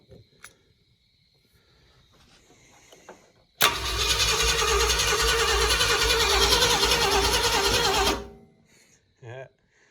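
An old red Ford F-100 pickup under rebuild, choked, cranks and catches, running loud and close for about four seconds before cutting off abruptly, with faint voices and handling noises before and after.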